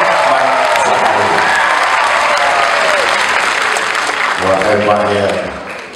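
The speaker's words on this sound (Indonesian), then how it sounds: "Dan tak lupa juga tepukan kepada guru muzik kita, iaitu Cikgu Hisham Udin." Loud, sustained applause and cheering from a crowd at an orchestra concert, easing off near the end as a voice begins.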